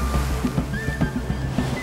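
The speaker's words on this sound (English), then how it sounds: "one that spews water in the air every 3 minutes" An Icelandic geyser erupts boiling water, churning and sloshing in bursts with a deep rumbling surge.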